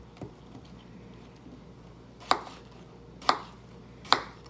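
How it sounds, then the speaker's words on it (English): A small paring knife cutting through produce onto a board, heard as three sharp, distinct chops about a second apart after a faint earlier tap, in a quiet room. "take the little paring knife and just cut along the outside, the white part"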